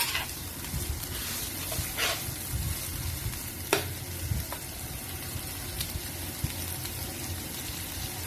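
Pork frying in a pan, a steady close sizzle with intermittent scraping and stirring clatter throughout.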